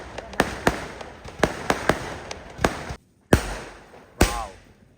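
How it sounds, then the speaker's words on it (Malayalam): Chinese firecrackers burst during a Vishu celebration, a string of sharp loud cracks at irregular intervals, several close together, then a brief silence and two more louder bangs with crackling tails. "നല്ല സ്റ്റേബിളായിട്ട് നമ്മളെ ചൈനീസ് പടക്കം പൊട്ടിച്ച്"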